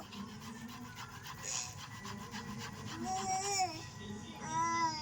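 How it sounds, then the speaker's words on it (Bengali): A potato is grated by hand for a spiced gram-flour chop, giving a steady run of rough rasping strokes at close range, with faint voices in the background. "এই দেখুন আলুটা আমি এইভাবে গ্রেট করে নেব।"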